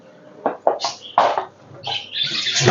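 Cage birds, black-face and black-wing breeding stock, chirp and call in short bursts, close and fairly loud, with a longer warbling call near the end.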